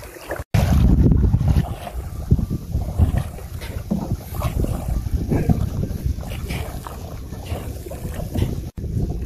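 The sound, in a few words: small boat riding on water at night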